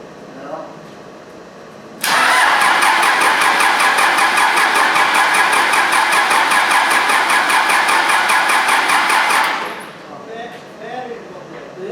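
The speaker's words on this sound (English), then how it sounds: "Let me crank it a little more." A Cummins 4BTA 3.9 diesel engine in a Versatile 276 tractor cranks with a loud, fast rhythmic starter chatter for about seven seconds, then cuts off without catching; faint voices are heard before and after.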